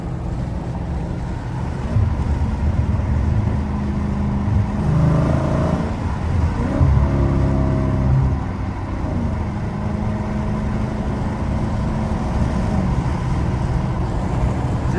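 A Dodge Challenger Scat Pack 392 on a late-night drive gives a steady low engine rumble from inside the cabin, swelling briefly into a throatier rev midway before settling back to a cruising drone.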